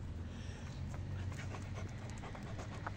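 A pet dog, a rescued stray now living at home with other dogs, pants steadily and close up for a few seconds, a continuous quick rhythmic breathing with no talk over it.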